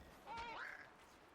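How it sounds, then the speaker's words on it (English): Single quacking goose call from inside Horizon Zero Dawn, a short honking glide rising then falling, moderately quiet over a faint ambient bed with no talk. "I killed a goose."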